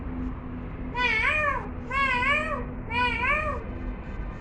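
A young child of three to five imitates a peacock call with three nasal, wailing cries, each about half a second long and evenly spaced, close and clear.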